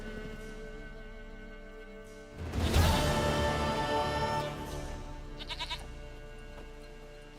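A goat in The Witcher 3 lets out a loud, wavering bleat that starts sharply a few seconds in and trails off, over steady low game background music.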